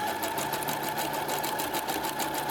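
Sewing machine running a narrow reinforcement stitch, 0.4 length and width 2, with a steady rapid needle chatter and motor whir, continuous and close throughout.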